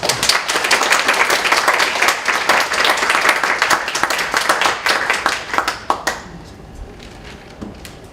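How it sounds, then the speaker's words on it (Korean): An audience at a pastors' seminary lecture applauds a professor, dense steady clapping from many hands that holds strong for about six seconds, then thins into scattered claps as it fades. "다시 한번 교수님께 큰 박수로"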